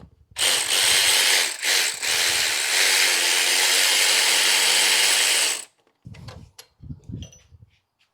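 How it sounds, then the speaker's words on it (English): A ratchet (or power ratchet) loosens alternator bolts on a Toyota 2.4L engine with a loud, continuous buzzing mechanical rattle lasting several seconds, followed by a pause and a few shorter bursts of clicking and handling noise. "Now we can remove the alternator, which is held on by a 14mm bolt up top"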